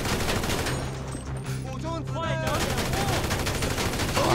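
Gunfire in the video game GTA 5, rapid bursts of automatic shots hammering close and loud across the clip, with a brief lull in the middle before the firing resumes.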